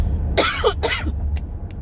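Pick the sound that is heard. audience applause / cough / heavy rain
cough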